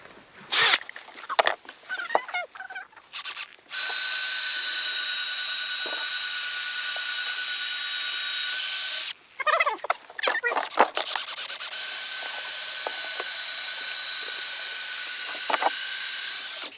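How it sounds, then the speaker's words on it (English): A power drill bores into wooden porch posts during a garden shed build, a loud steady whine running long and unbroken, interrupted once by a short pause and a few knocks and handling clatters. "So we're going to go ahead and drill that now."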